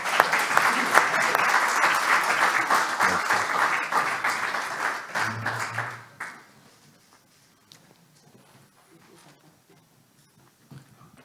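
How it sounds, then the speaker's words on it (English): Warm audience applause at the opening of a women's football summit in Athens rings out for about six seconds as the co-founders are called up, then drops off quickly into a quiet room. "A warm applause."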